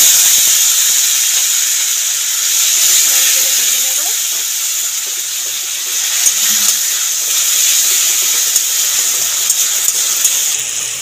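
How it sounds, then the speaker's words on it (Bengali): Grated tomato frying in hot oil with tempered spices for an Ol Chingri Dalna, giving a steady, loud, steamy hiss that runs unbroken throughout, with a few faint clicks and light background noise. "টমেটোটা ভাজা হয়ে গেছে"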